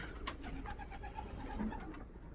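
Pigeons in a pigeon loft give soft, low coos that repeat faintly over a steady background hum, with no voices.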